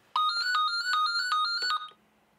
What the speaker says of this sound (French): Un matin du mois de mai, cet homme, que nous appellerons Marco, reçoit un coup de téléphone.